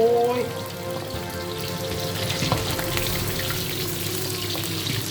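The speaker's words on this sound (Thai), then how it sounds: "ผมขออนุญาตหนีไปทอดหมูก่อนนะครับ มันกระเด็นเหลือเกิน" Pork belly fries in a generous amount of hot oil, giving off a dense, continuous crackle and spatter of popping fat that stays steady and close throughout.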